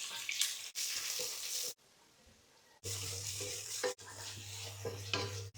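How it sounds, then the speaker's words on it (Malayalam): Sliced onions sizzle in oil left over from frying chicken for a chicken biryani, a loud steady frying hiss broken by brief pauses and stirring scrapes, with a low hum running through the later part. "നമുക്ക് ചിക്കൻ ഫ്രൈ ചെയ്ത ഓയിലിലേക്ക് കുറച്ച് സവാള ഇട്ട് കൊടുക്കാം."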